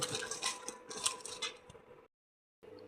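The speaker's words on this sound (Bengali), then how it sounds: "এটাকে ভালো করে মিক্স করে নেব।" Vegetables for a pumpkin and eggplant dish being mixed with chili powder and turmeric, a busy run of close clinks and scrapes of a utensil against a bowl, then a short pause before it resumes.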